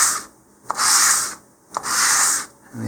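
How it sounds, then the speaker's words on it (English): Stacked model rocket wings are dragged across 150 grit sandpaper in three long, loud, rasping strokes, each a steady scratchy rush separated by brief pauses and small knocks. "now I'm going to drag them across some 150 grit sandpaper"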